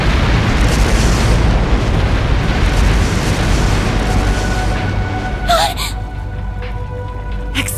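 Explosions set off by explosive artifacts in the video game Trails Through Daybreak, a dense, loud rumbling roar that fills the clip continuously, followed by a sharper burst near the end.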